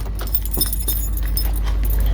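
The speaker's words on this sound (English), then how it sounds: "I don't need Betty's keys for this, I need Ellie's keys" Car keys jangling close up in a short burst of bright metallic clinks, with no speech.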